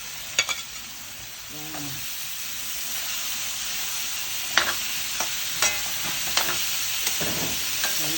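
Baguio beans sauté in a hot frying pan with a steady sizzling hiss, while a utensil scrapes and taps the pan in scattered stirring strokes. A voice speaks briefly near the start.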